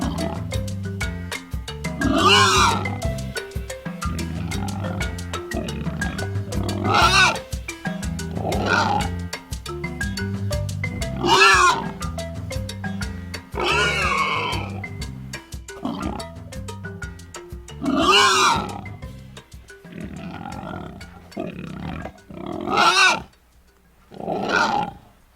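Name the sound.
wild boar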